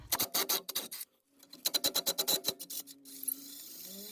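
A 15 mm socket ratchet clicks in quick bursts while backing off a nut on the lower suspension joint of a Ford Edge / Lincoln MKX 3.7L, rapid rasping ratchet strokes up close, pausing briefly then resuming.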